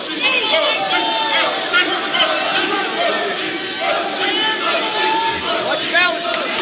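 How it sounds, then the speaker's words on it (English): Arena crowd at the Blaisdell Arena in Honolulu during a 1997 fight, a steady roar of cheering voices with a rhythmic chant of "Machine" rising and falling throughout, dense and continuous. "Small chant of Machine now going around the Blaisdell Arena here"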